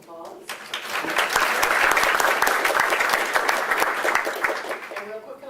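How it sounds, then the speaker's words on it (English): Audience at a Buncombe County school board meeting breaks into sustained applause for Fairview Elementary, steady clapping from many hands that swells quickly and holds at full loudness for several seconds before tapering. "Round of applause."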